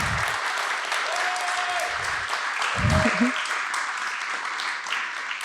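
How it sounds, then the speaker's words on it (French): Applause from an audience at a Paris coding bootcamp demo day, a steady wash of clapping with a couple of brief whistle-like tones and low thumps partway through. "Vous pouvez applaudir."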